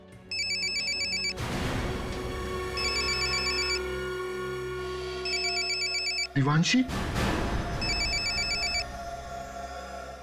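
A telephone rings in repeated electronic bursts, broken by a brief clatter and a short spoken word before the ringing resumes.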